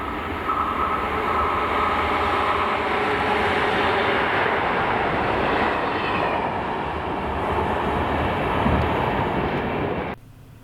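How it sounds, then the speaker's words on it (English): Freight train 6x45 led by locomotive 43465 passes through Linlithgow, Scotland, a loud, steady rumble and wheel roar holding for about ten seconds before cutting off abruptly. "this is Linlithgow, where the train is now 6x45, the 1152 from Bowness Exchange sidings to Crewe Basford Hall, with now 43465 leading 484"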